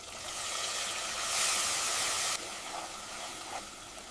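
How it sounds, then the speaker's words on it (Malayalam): Tomatoes sauté in spiced masala for a Kerala crab curry, giving a continuous hissing sizzle that swells briefly in the middle, then settles back to a steadier, softer frying hiss. "ഇനി തക്കാളി ചേർത്ത് നന്നായി വഴറ്റാം."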